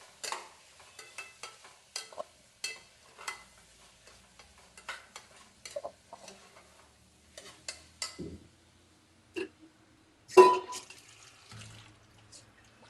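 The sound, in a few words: stirring spices into pav bhaji in pressure cooker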